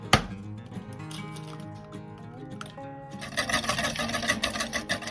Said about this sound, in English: In the other bowl, we need to beat an egg